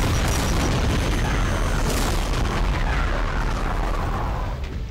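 Heavy gunfire and booming blasts from the Brutal Doom video game, dense and continuous, loud throughout with a slight fade at the end and no clear talking.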